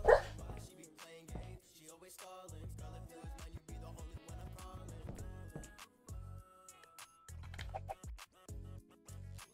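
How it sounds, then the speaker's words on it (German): A sleeping dog gives soft, muffled woofs, whimpers and low growls in irregular short bursts, close but faint, with quiet gaps between. "Knurrt und bellt hier rum."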